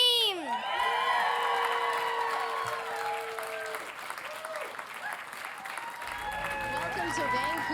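A huge arena crowd of more than 19,000 hockey fans in Vancouver claps and cheers loudly and without a break, with whoops and shouts rising above the sustained roar.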